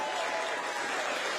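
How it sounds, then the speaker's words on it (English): Audience applause for Miss Urbina at a live celebration, a quiet, even patter of many hands clapping at a distance, steady throughout. "Could we please have another round of applause for Miss Urbina?"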